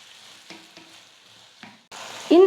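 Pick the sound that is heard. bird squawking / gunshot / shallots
shallots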